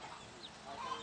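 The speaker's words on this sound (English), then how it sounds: "it's feeding time for the chickens, or the chicken and her children," Hens and chicks clucking softly in a farm stall at feeding time, faint and somewhat distant with low rustling in the background, no talk.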